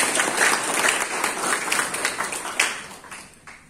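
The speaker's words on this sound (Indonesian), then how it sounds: "Semua tepuk tangan bagi Yesus Tuhan." A church congregation at a Sunday service claps together, a brisk crowd of hands rising in places and then gradually thinning and fading out.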